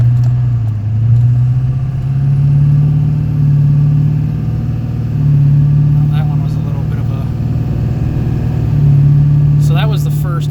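Pickup truck with an Allison 1000 automatic transmission driving along, a steady engine drone with a noticeable firmer gear shift, pitch dipping and recovering, under someone talking.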